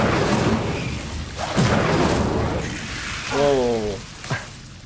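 An Incendio fire spell cast in the video game Hogwarts Legacy: a rushing, crackling burst of flame that rolls on for several seconds, with a brief voice rising near the end.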